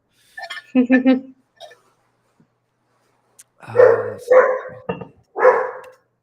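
A puppy lets out a few short, yappy barks, followed after a pause by a cluster of louder barks, close by and separated by silence.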